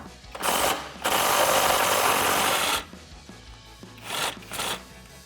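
A half-inch impact driver with an 18mm socket hammers at a Jeep Wrangler JL body mount bolt: a short rattling burst, then a sustained loud buzzing run of nearly two seconds, followed by a few brief bursts.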